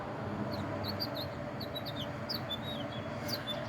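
Small birds chirp near a nest, high quick tweets scattered through a steady outdoor background hum, faint and somewhat distant.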